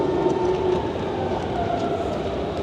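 A Berlin S-Bahn commuter train at a platform, giving a steady loud rumble with a faint tonal whine and no voices.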